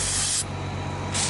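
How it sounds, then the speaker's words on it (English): Two short bursts of aerosol cleaner spray hiss onto a machine's leaking wiper seal, close by, separated by a brief pause with low background hum. "And spray that wiper seal"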